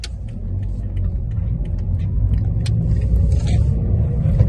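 A 2000s-era Toyota Yaris mk2 with a 1.3 VVT-i petrol engine cruises on a road, its steady low engine and tyre rumble holding close and loud throughout, growing slightly as it goes, with no talk.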